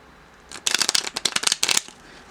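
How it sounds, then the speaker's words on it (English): A deck of playing cards being shuffled up close, a quick burst of crisp riffling flutters in several rapid runs, with no talking over it. "So another little shuffle here."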